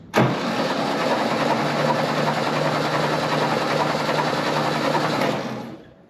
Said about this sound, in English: so I'll crank it for a little bit, try to make sure everything's gone from in the cylinders